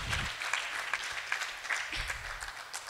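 A church congregation claps steadily in continuous applause, loud and close, with no voices standing out above it.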